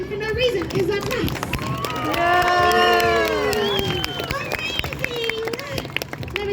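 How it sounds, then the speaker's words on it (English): A crowd cheering and shouting at a sword swallowing show, voices rising together in a loud whooping swell with some clapping, alongside a performer talking. "Maybe do some clapping and cheering for no reason."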